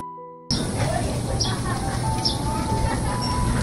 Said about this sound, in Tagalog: ang sarapan pakinggan ng mga ibon